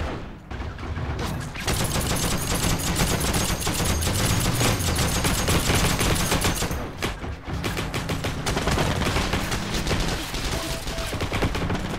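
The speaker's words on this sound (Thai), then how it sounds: "โดนยิงโดนยิงโดนยิง" Sustained automatic gunfire in Heroes & Generals, with dense rapid bursts of shots striking the player, close and loud almost without pause, broken only by a couple of brief gaps.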